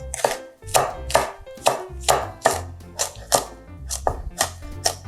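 A knife finely chops halved cheongyang green chilies and red chilies on a cutting board, giving about a dozen crisp, fairly even strokes close up with short pauses between them.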